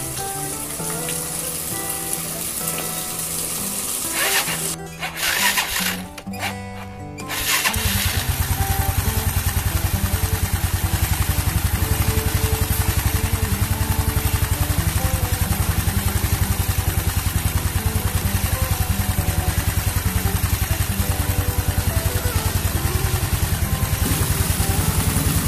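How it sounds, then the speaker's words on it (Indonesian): A Yamaha Mio scooter, after a one-way starter clutch repair, cranks on its electric starter and fires up, settling into a steady, loud idle that runs alone for the rest of the stretch. "Setelah terpasang kita tes, kita starter."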